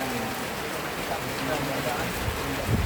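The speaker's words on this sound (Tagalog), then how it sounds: "Nabutan kami ng ulan." Steady rain falls outside a house in the Philippines, a dense, even hiss filling the background throughout, with faint murmurs of activity beneath it.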